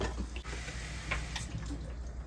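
Water runs from a kitchen tap into a pot, measuring out cups for cooking rice. It makes a soft, steady splashing stream, faint and continuous, with no voices.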